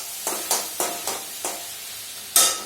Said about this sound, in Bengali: তো ভেন্ডি ভাজছি আর পেঁয়াজ দিয়ে ভাজছি